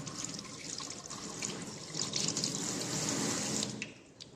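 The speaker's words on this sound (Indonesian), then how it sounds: "dibasuh dengan air mengalir." Hands are rinsed under running tap water, a steady close splashing stream that swells slightly and then tapers off as the flow stops.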